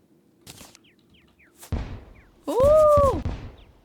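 A firework gun fires in the video game Terraria: a sudden burst with a sharp crack, then a loud whistling, rising-and-falling tone with crackle, set among quieter game effects.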